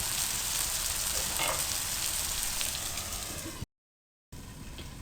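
Baingan ka bharta, a mashed brinjal curry, cooks covered in a pan on very low heat with a soft, even, continuous sizzle. The sizzle cuts to a brief total silence near the end, then resumes.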